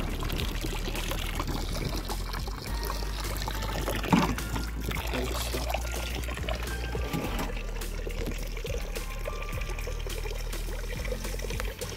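Water restored to a rural smallholding runs and pours steadily, a continuous splashing trickle with a broad wash of noise that stays even throughout, with no voices.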